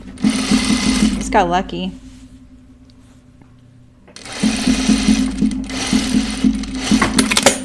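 A home sewing machine runs steadily while stitching a Kalle shirtdress, with two loud, close bursts of continuous whirring separated by a quieter pause where someone briefly speaks.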